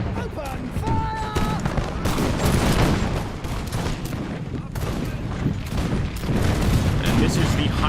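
Infantry musket volleys crackle and roll in Imperial Splendour, a Napoleonic-era strategy game, with dense overlapping gunfire and booming artillery sustained loudly throughout, accompanied by a few brief whistle-like tones.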